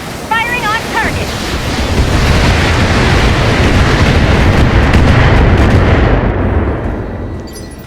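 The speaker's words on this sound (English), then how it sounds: "I already have a missile lock, I'm going to unload." An assault mech fires a missile salvo in the video game Battletech: a loud, sustained roar of launches and impacts that swells, holds and then fades, preceded by a few brief electronic beeps.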